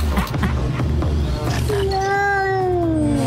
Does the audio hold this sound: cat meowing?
yes